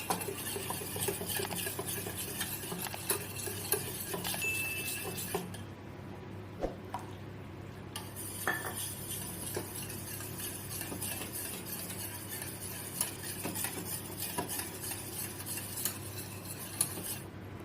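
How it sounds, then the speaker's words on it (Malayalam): Cake batter for a pressure-cooker cupcake is mixed by hand while milk is poured in bit by bit, with a steady soft scraping and clinking of a spoon in a bowl that pauses briefly midway. "പിന്നെ ഒരു 170 ml പാല് കുറേശ്ശെയായിട്ട് ഒഴിച്ച് മിക്സ് ചെയ്തെടുക്കുന്നുണ്ട്."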